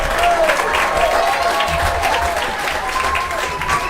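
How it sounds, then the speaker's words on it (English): The Edenton crowd at a baseball game gives a sustained ovation, loud clapping and cheering filling the clip with a steady roar, with a voice speaking over it. "And an ovation from the Edenton crowd."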